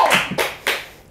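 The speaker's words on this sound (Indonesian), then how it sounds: "tepuk tangan dulu" A few hand claps in a small studio talk-show setting for a girl-group program, three sharp separated slaps close by, no talk over them.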